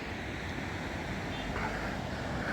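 A monsoon-swollen river in the Tirthan valley, fed by glacier melt, rushes past in front of a hotel with a steady, broad roar of flowing water that runs on without break, close and continuous.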